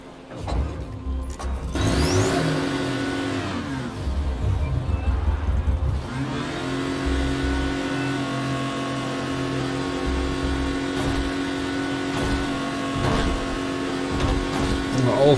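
A buggy's engine in the video game Dying Light: The Following revs up sharply twice, then settles into a sustained, fairly loud drone, with a voice speaking at times over it.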